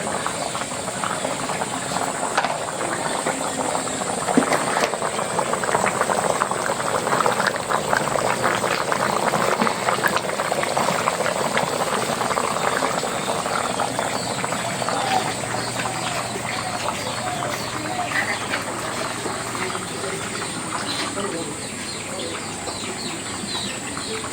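Fish curry with potatoes and cumin bubbles steadily in a pot, a continuous close simmering hiss with soft popping and steam that holds at an even level throughout, with no talking.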